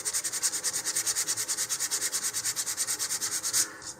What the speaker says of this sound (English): I'm just going to take some fine sandpaper, and I suggest using 150 to 220 grit for this.